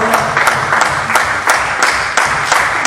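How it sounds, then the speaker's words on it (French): A church congregation applauds loudly and steadily, praising Jesus, with rhythmic clapping and brief cheers in a close, reverberant hall. "Acclamez encore très fort Jésus"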